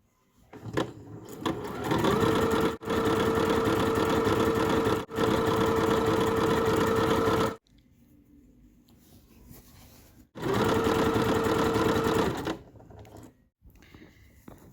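A home sewing machine stitches the thick fabric edges of a chair cushion cover in loud, close, steady runs of rapid whirring, several bursts a few seconds long with short pauses and quieter handling between them.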